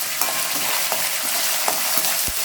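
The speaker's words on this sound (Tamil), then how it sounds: "இந்த வேர்க்கடலை சேர்த்துக்கலாம் எண்ணெயிலே கொஞ்ச நேரம் வருந்தால் தான் நல்லா சூப்பராக இருக்கும்" Peanuts frying in hot oil, a loud, dense, continuous crackling sizzle close up, with a few faint clicks of a spoon against the pan.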